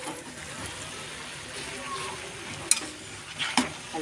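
String beans and pechay stirred in a sizzling pan, a steady frying hiss with a few sharp utensil clinks near the end and a voice faintly underneath.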